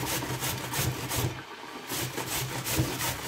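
Carrots are grated for a meatless borscht, making steady rhythmic rasping strokes against the grater, close and moderately quiet, with a brief pause midway.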